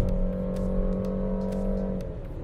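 A 2023 Peugeot 5008 engine heard from the cabin as a steady, fairly loud hum that holds a constant pitch before easing off near the end, with faint clicks above it.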